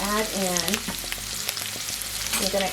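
Garlic and asparagus sautéing in a pan with shrimp, a steady close sizzle with tossing and scraping, while a voice talks briefly at the start and end.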